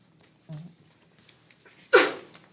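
A single loud, sharp sneeze bursts out near the end after a brief faint vocal sound, with quiet room tone around it.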